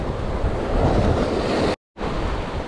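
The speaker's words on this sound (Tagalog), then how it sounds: "Hindi tayo makapamusit kasi malakas na malakas ang alon." Strong ocean waves and surf pound and rush continuously, loud and close with buffeting wind noise, broken by a brief cut to silence before the roar resumes.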